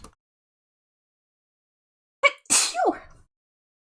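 After a long silence, a single loud, close sneeze bursts out with a sharp intake and a forceful release.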